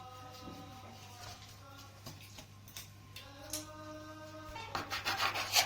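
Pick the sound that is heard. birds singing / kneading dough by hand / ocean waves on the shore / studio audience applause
kneading dough by hand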